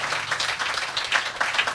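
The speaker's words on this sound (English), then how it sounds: "Round of applause for Scott" Applause from a recovery-event audience, moderately quiet and steady, with scattered individual claps and a few whoops audible through the clapping.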